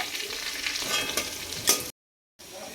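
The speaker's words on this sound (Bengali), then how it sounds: "ক্যাপসিকাম দেবো একটু হালকা করে নেড়ে নিয়ে" Capsicum stirred in a frying pan gives a close, hissing sizzle with scraping stirs and a sharp clink, cut off by a brief gap of silence before the frying resumes.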